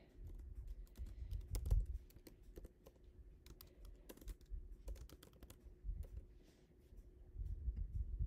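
Typing on a computer keyboard, a steady stream of close, light key clicks with brief pauses and a few heavier taps throughout.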